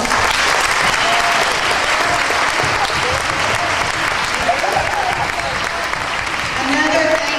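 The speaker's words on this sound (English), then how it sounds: "Let's give them a round of applause." Steady audience applause fills the room, a dense, even clatter of many hands clapping that stays loud and continuous throughout.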